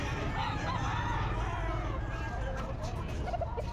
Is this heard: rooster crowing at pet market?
yes